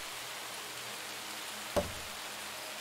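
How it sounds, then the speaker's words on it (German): Steady rain in the video game Empires and Tribes, an even, faint wash of falling water with one brief dull knock partway through, no voices. "Ah, und das mitten im Regen."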